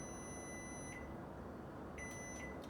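An oven control panel beeps while the timer is set, with about four short electronic bleeps spread out over a steady hum of background noise.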